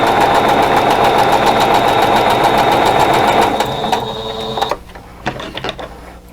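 A sewing machine stitches a quilt block for a fox-and-goose pattern, a loud rapid mechanical whir with steady needle rhythm running for about four seconds, then slowing into a few short stuttering bursts before stopping.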